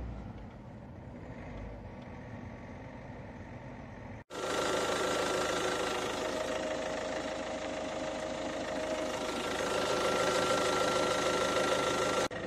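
A car engine runs during an antifreeze coolant change, idling low at first, then abruptly revving up to a louder, steady, higher-pitched hum that holds to the end.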